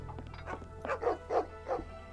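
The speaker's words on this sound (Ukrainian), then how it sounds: "О, собаки Баскервілів." Several dogs bark in the video game Sherlock Holmes: The Awakened, giving a quick series of about five moderately loud barks and yips in close succession over a faint background hum.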